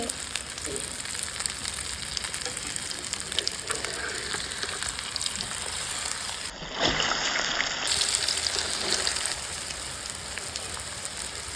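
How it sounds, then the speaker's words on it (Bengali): Egg and flour flatbread frying in a pan gives a steady, close sizzle throughout, with a brief louder burst of crackling partway through as the dough puffs in the hot oil. "চলুন আরও একটি ভেজে নেই"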